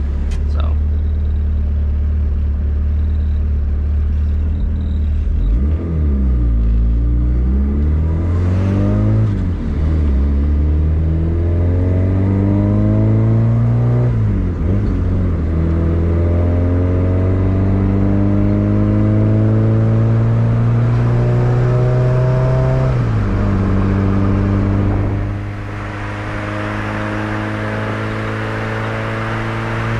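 A turbocharged Suzuki Vitara D16 engine in an EF hatch with a full 3-inch exhaust revs hard through the gears, the pitch climbing and dropping with each shift, loud and close from inside the car, with steady wind roar underneath.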